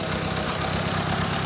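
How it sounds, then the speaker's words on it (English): A 1956 Ford 860 tractor engine idles nearby, a loud steady rumbling throb with a slight knock that holds evenly throughout without any voices. "tractor's a 1956 Ford 800"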